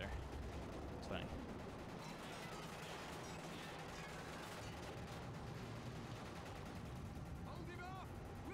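Steady gunfire from the James Bond game Quantum of Solace, dense bursts of shots under a constant loud battle din, with a few higher whistling effects near the end.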